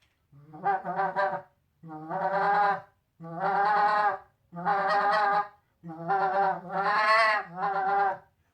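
Six harsh, honking goose-call murmurs blown in a steady series, each about a second long with brief gaps, close and fairly loud.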